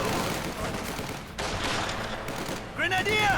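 MG42 machine gun fire in the World War II strategy game Company of Heroes 2, dense rattling bursts mixed with other battle noise, ending in a whistling, screeching sweep.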